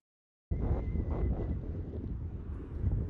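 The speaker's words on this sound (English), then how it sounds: "dealing with 15 to 20 mile an hour head crosswinds" Strong 15 to 20 mph crosswind buffets the microphone on an open disc golf practice field, a loud, steady low roar that starts abruptly after half a second and then gusts continuously.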